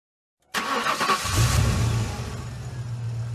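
A cartoon car engine sound effect in a children's learning game: a sudden start, a loud rev, then a steady, close engine rumble running alone to the end.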